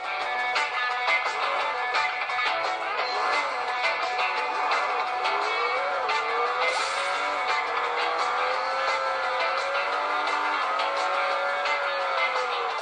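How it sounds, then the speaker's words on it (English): Beach Buggy Racing played on a smartwatch: continuous game car engine whine with rising and falling pitch sweeps, steady and moderately loud throughout, with no talking. "Let's try a game out, and the game I want to try is beach buggy racing"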